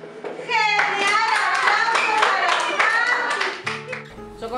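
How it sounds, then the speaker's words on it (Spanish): Schoolchildren clap together in a classroom, a dense burst of close, lively applause with children's voices chattering and calling over it, tapering off near the end. "¡Aplausos!"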